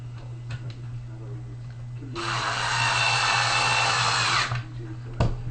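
A power driver whirs for a couple of seconds, driving screws into the board of an XSV Vlocity paintball loader. A steady low hum runs underneath, with a few small clicks of handling before and after.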